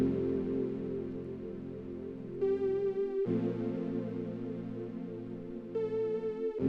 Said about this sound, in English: original sample, which is this pad that sounds super spacey.